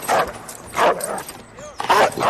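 Dogs bark in bursts during combat in Call of Duty: Modern Warfare, three loud yapping barks spaced across a couple of seconds with a faint whimper between them.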